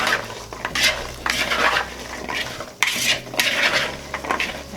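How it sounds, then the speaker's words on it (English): A spoon scrapes and stirs a thick, wet mixture of cranberries, fruit and spices in a bowl, with rhythmic swishing and clinking strokes, close up and continuous. "we're going to mix all of this together so that it's well dispersed"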